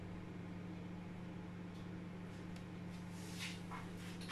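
A microwave oven running while cooking rice pudding, a steady low hum with a constant mechanical drone, plus a few faint clicks and knocks near the end, no talk.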